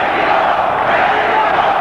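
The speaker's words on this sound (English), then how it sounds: "Mexico is the chant from the crowd" A boxing crowd roars a steady, loud chant of "Mexico" for Julio Cesar Chavez during a WBC light welterweight title fight, a dense wall of massed voices filling the arena throughout.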